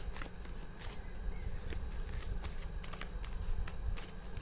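Tarot cards are shuffled close by in quick, dry riffling bursts, with sharp snaps and slides repeating every half second or so before a card is drawn from the middle of the deck.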